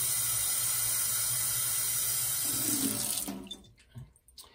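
A sink tap runs water steadily into a large beaker in a lab for about three seconds, with a bright rushing hiss, close by. The flow then stops, leaving a few soft drips and clinks.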